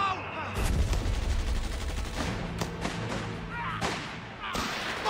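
Gunfire and machine gun bursts crackle in the World War II strategy game Company of Heroes 3 as troops capture Potenza, with heavy thumps and rapid rattling volleys over several seconds and shouted voices mixed in.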